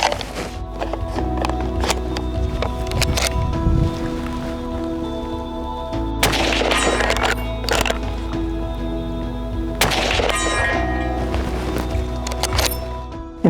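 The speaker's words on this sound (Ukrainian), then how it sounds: "Зробимо ще декілька пострілів." Several sharp, loud shots from a Ruger scout rifle ring out one after another, each ending in a long echoing tail, with a steady low rumble underneath.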